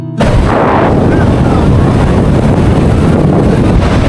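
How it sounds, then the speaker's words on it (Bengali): Strong wind and heavy sea waves on Cox's Bazar beach in light drizzle make a loud, unbroken roar with constant wind buffeting on the microphone. "প্রচুর বাতাস, গুড়ি গুড়ি বৃষ্টি এবং প্রচণ্ড ঢেউ হচ্ছে"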